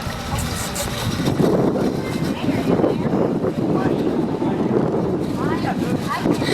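Strong outdoor wind buffets the microphone in gusts at an Old Home Week gathering, and people talk under the rumble.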